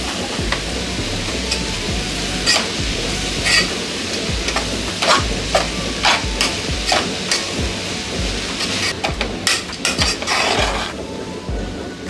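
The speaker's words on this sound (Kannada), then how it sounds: "ಒಂದು 2 ರಿಂದ 3 ನಿಮಿಷದಷ್ಟು ಇದೇ ರೀತಿ ಫ್ರೈ ಮಾಡ್ಕೋಬೇಕು" Chilkarve (goosefoot) greens fry in a pan with a loud, continuous sizzle and crackle, while frequent spatula scrapes and taps against the pan keep a busy, uneven rhythm close by; no one talks.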